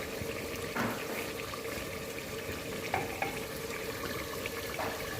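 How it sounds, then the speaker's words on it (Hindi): Boiled kettle water is poured into a sizzling pan of Shinwari lamb karahi, giving a continuous hiss and bubbling with a few clinks, close and steady throughout. "मैंने इसमें ऐड कर दिया है पानी मैंने इसमें बॉइल्ड वाटर ऐड किया है, यानी केटल का पानी"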